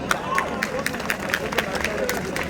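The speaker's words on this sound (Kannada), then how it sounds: "ನಿಮ್ಮೆಲ್ಲರಿಗೂ ಜೋರಾಗಿ ಒಂದು ಚಪ್ಪಾಳೆ ಬರಲಿ" A crowd at a badminton cup event claps along in a loose, continuous patter of applause, with a speaker's voice and some background chatter mixed in.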